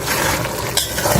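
Potatoes and dried plums being stirred in a cooking pot with a spoon, a close, steady scraping and sizzling that runs continuously and alone.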